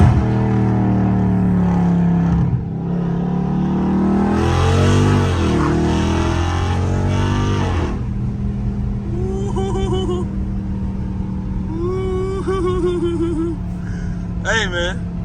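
A catless Dodge Scat Pack on back roads, its engine rumbling loudly and revving hard in a rising surge mid-clip before settling to a deep idle-like drone, with people talking over it.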